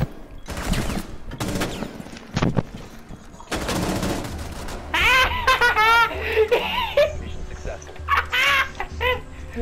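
Bursts of rapid gunfire crackle in a video game, mixed with excited voices talking and shouting over the shooting and other game effects.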